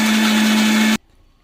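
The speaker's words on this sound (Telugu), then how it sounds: "మళ్ళీ మూత పెట్టేసి మళ్ళీ మిక్సీ పట్టుకోవాలి మనం మెత్తగా" A mixer grinder runs loud and steady for about a second, blending a smooth cream paste with water added, then cuts off abruptly into near silence.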